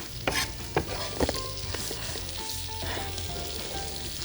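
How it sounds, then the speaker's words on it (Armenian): Potatoes, pork and bell peppers fry in a pan for Georgian ojakhuri, with a steady sizzle broken by a few sharp scraping stirs of the utensil; no voices. "Այո, հեսա ավելացնում ենք բուլղարական պղպեղները, տապակում ենք"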